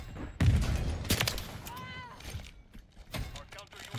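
Jak Devastators pistols fire in Modern Warfare 3 gameplay, with a few sharp gunshot bursts spaced across the moment and game sound effects in between, heard fairly quietly beneath talking.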